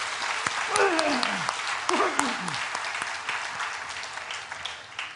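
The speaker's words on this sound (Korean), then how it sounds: "우리 격려의 박수 한번 해주시면 좋겠습니다" A church congregation claps in encouragement during a Sunday worship service, steady moderate applause throughout, with a few sliding tones from a voice or instrument near the start.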